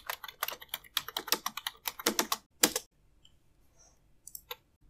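Rapid typing on a computer keyboard while entering a file name in a save dialog, a dense burst of close key clicks for about three seconds, then a pause and a few scattered keystrokes.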